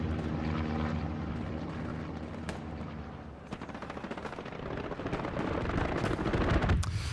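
Aircraft strafing run in the video game Hell Let Loose on the Hurtgen Siegfried Line map: a droning propeller plane swells closer as rapid machine-gun bursts rattle in, growing louder and denser toward the end.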